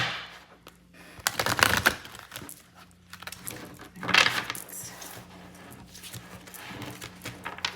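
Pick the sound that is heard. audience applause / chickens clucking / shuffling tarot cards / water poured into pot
shuffling tarot cards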